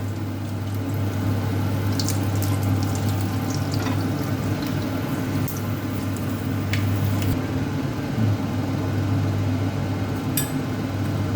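Fenugreek seeds frying in hot oil for a fish malai curry, a steady close sizzle and crackle with a persistent low hum and occasional sharp pops throughout.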